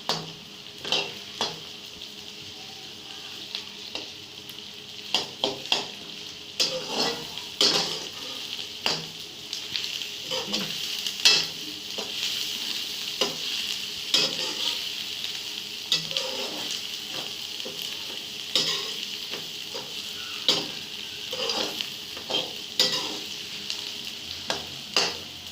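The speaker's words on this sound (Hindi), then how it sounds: "प्याज को हम सुनहरा होने तक भूनेंगे।" Onions and garlic fry in a pan for chana dal kofta, a continuous sizzle broken by frequent spoon scrapes and clinks against the pan, with no talking.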